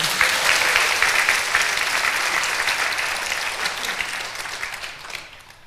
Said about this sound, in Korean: 다시 한번 구원받은 사람 박수하십시오.